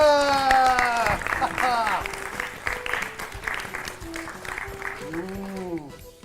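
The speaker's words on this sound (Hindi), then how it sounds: "हो जाए जोरदार तालियां" Loud applause from a studio audience on a children's education show, dense and sustained throughout, with musical tones and a sweeping jingle overlapping near the end.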